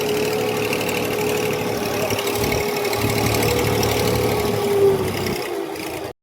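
A tractor engine on a farm field runs with a steady, throbbing, mid-pitched rumble, holding fairly loud and close with a slight swell near the end before it cuts off.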